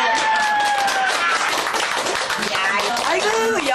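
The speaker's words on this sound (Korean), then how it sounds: "박수." A small group of cleaning staff claps at a casual meal gathering, brief dense clapping mixed with overlapping voices and chatter.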